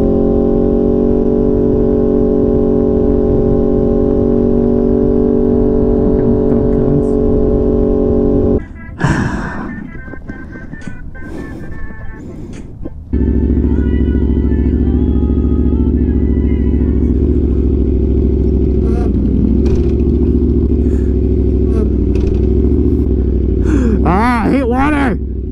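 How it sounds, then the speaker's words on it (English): A loud motorcycle engine idles with a steady low rumble, drops away briefly mid-stretch amid rustling, then returns as a strong continuous drone, with a person talking over it. "my bike is so loud"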